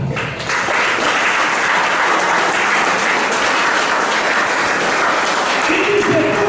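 A church congregation applauds continuously and loudly, a dense steady wash of clapping that holds for several seconds, with a faint tone entering near the end.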